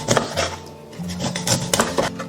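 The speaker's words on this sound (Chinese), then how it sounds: "洗好过后，我们斜刀切片，尽量薄一点" A knife cuts thin angled slices of fatty eel on a cutting board, a quick run of close taps and knocks against the board with light clatter, no voices.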